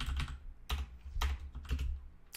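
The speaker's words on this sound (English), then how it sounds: "So I'll just type in" Fingers tap out a short burst of quick, uneven keystrokes on a computer keyboard, close and clear with no talking.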